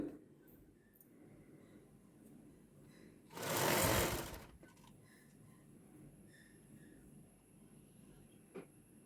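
A sewing machine stitches a half petticoat in one loud, short burst of rapid needle chatter, with quiet room ambience before and after.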